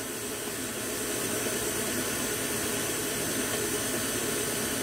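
An electric hand mixer beats banana bread batter with vanilla just added, giving a steady, loud whirring drone that holds unbroken for the whole stretch with no talking.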